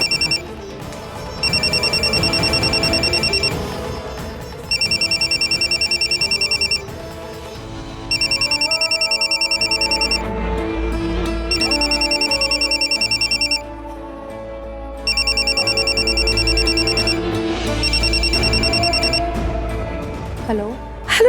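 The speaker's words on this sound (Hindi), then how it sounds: "घर के फोन पर कोई कॉल कर रहा है।" A home landline telephone rings in repeated bursts of about two seconds with short gaps between them, loud over background music and faint voices.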